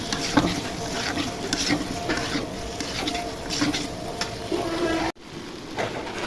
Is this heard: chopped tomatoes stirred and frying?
yes